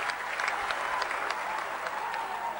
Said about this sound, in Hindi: ताली एक बार जोरदार हो जाए हमारे भाई चक्रवर्ती के लिए